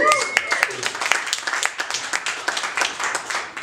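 Comedy-show audience at AS220 applauding, a dense patter of many hands clapping close and steady for several seconds, with a voice speaking over the clapping.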